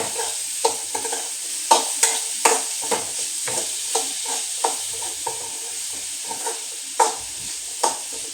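Bitter gourd and green chillies fry in a pan under a constant bright sizzle, with a spatula stirring and scraping in regular strokes roughly twice a second, close and fairly loud, with no talking.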